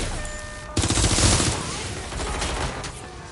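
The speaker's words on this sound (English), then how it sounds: "I'm getting shot at here." Rapid bursts of gunfire in the video game Watch Dogs: Legion, a loud dense volley starting abruptly and tapering into scattered shots, with a tonal game sound underneath before the shooting begins.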